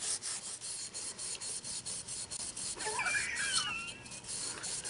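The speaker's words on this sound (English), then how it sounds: "this is the tedious part where we're just going to spend a bunch of time running the surfaces and smoothing them out so it'll adhere the paint" A Scotch-Brite pad scuffs a gun handguard in repeated quick rubbing strokes that sound faint and close, with a few squeaky scraping sounds partway through.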